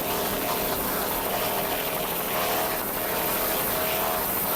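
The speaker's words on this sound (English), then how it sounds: "Those engines sound excellent." Offshore racing powerboats at the 1993 Sarasota Offshore Grand Prix roar with a loud, continuous engine drone, with no break across the whole stretch.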